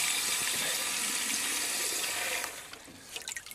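Water gushes steadily from a tap on a coastal walking path with a loud, hissing rush, then the flow eases and splashes more unevenly toward the end.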